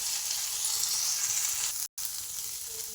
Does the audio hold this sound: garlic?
yes